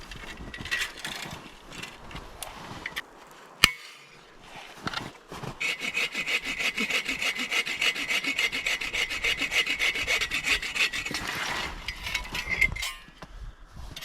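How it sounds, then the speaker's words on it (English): A hand saw cuts through a dead tree for firewood in a forest, starting with a few scattered scrapes and then settling into a long run of quick, rhythmic rasping strokes, close and loud. "I love this saw so much."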